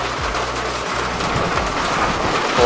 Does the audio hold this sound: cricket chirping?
no